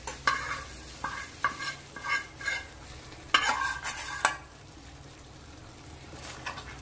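Butter and chilli tadka sizzles as it is poured into chicken lababdar and stirred, with a quick series of sharp scraping strokes followed by a quieter, steady sizzle.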